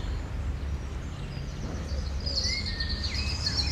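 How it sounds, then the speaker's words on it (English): Birds chirp and sing faintly in the background of a quiet indoor space, with a few thin high calls standing out over a steady low hum. "So that might be the sound of the birds."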